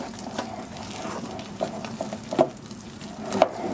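Henna powder stirred with a logwood decoction into a wet paste, giving soft, close squelching and scraping strokes with a few sharper clicks, faint and alone.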